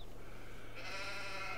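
A sheep bleats in the farming video game Farming Simulator 22, a single wavering call rising partway through over a soft, steady ambient bed.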